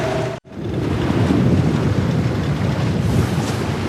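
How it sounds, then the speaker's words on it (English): Strong wind buffets a boat at sea, with a constant roar of gusts and waves washing around the hull, close and loud with no voices. "It's quite windy as well."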